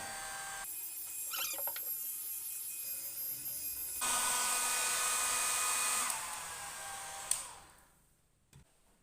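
A hair dryer drying screen printing emulsion blows as a steady hiss. It shifts to a louder, brighter setting partway through, then winds down and stops, leaving a click and quiet.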